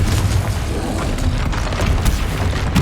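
In the Xbox game Hogwarts Legacy, a Confringo fire spell blasts with a heavy, continuous booming roar that stays loud and full for a few seconds, with faint crackles through it.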